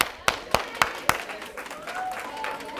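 A keynote audience clapping for a volunteer, a few sharp regular claps at the start followed by a scattered, softer patter of applause and faint voices.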